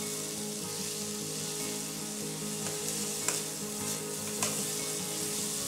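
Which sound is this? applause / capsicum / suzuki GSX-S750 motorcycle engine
capsicum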